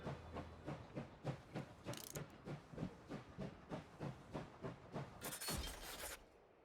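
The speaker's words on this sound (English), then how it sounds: "a loud mechanic clank echoes through the air and the train begins to slow down" In a video game, a train runs with a rhythmic series of clanks and chugging pulses, and two loud hissing steam bursts break in as it slows. The sound is faint overall and there is no speech.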